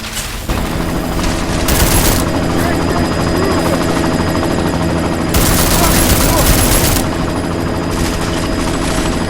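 A helicopter drones loudly and steadily in the Deus Ex: Mankind Divided video game, with bursts of rapid gunfire breaking through twice, close and intense throughout.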